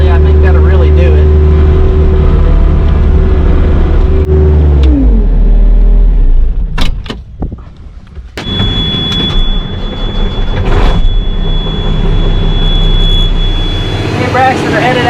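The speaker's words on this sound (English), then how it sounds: "Braxton are headed out in this dump truck to dump this load of dirt" A dump truck hauling a load of dirt on a farm, its engine rumbling loudly up close and then shifting pitch as it drives off, with a steady high whine joining later.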